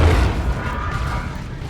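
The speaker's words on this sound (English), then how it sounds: "Plasma Cannon gets a decent hit." A plasma cannon shot lands in a Warhammer 40,000: Dawn of War 2 battle, a short low boom that quickly settles into a rumbling, crackling decay amid other game noise.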